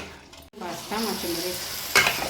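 Ground masala paste frying and being stirred in a pan for Goan chicken vindaloo, a close, steady sizzle with scraping stirs and a brief louder crackle near the end.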